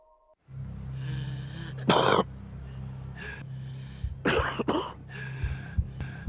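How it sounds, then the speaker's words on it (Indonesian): A smoker coughs several times in harsh, raspy bursts, with wheezy breathing and throat clearing between them, close by in a quiet room. "Batuk seorang perokok tidak hanya menandakan rusaknya paru-paru."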